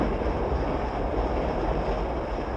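Steam locomotive 3801 runs on rails at speed with a dense, steady rumble and rushing roar, loud and close throughout with no talking.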